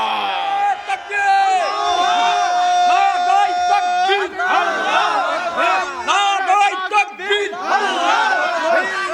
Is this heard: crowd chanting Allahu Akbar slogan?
yes